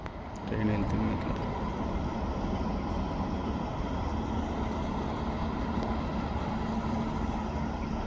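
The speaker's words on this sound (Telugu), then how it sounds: "ట్రైన్ వెళ్తుంది ఇట్లా." A train passes at Jurong Lake Gardens in Singapore, a broad steady rumble that swells in and holds loud for the rest of the clip, with people talking over it.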